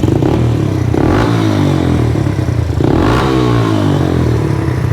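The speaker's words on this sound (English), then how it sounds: "when you snap that throttle, you hear it drop back down just fine" A Raptor 125 quad with a high idle and bogging fault, its engine revving loudly as the throttle is snapped twice, each blip rising sharply and then dropping back toward a steady, rumbling idle.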